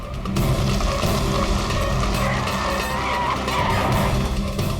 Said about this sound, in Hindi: पंकज सर, कोई अच्छी जगह पे गाड़ी रोको सर।